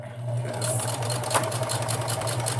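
A domestic sewing machine runs steadily through a backstitch, its fast needle rattle and motor hum holding close and even for the whole stretch with no voices over it.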